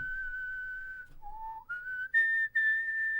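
A person whistles a short melodic phrase imitating Gizmo from Gremlins, clear and close, with a few pitch steps ending on a higher held note.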